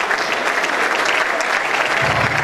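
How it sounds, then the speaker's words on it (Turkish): Dense, loud applause from an audience at a Turkish school award ceremony honouring students and their teachers, a steady roar of clapping throughout. "alkışlıyoruz."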